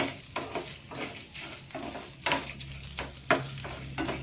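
Guava chutney ingredients with byadgi chillies stirred in a hot pan, a steady sizzle broken by repeated scraping strokes of a spoon, several sharp clanks standing out near the end, with no talking.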